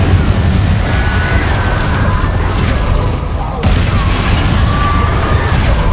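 Confringo fire spell blasts in Hogwarts Legacy, a dense, loud, roaring wall of explosive noise that runs continuously, dips briefly midway, then surges back at full strength.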